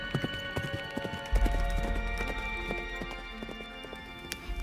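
Horse hooves clip-clop at a steady walking rhythm as a single mounted rider draws nearer, the footfalls clear and moderately close against quiet outdoor background with no talking.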